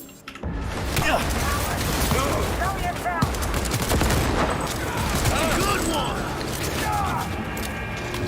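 Rapid automatic gunfire in the video game Cyberpunk 2077 after a swap to an assault rifle, dense loud bursts of shots and mechanical clatter running continuously, with someone talking over the combat.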